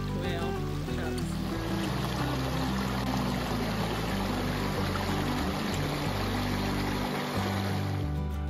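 A creek beside a hiking trail to Machine Falls near Tullahoma, Tennessee, rushes with a continuous, fairly faint broadband flow, overlaid by low rumbling from wind or handling.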